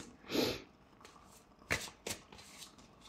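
A deck of cards is riffled and shuffled close by in a quiet room, with one longer rustling burst followed by a few short, crisp snaps and flicks.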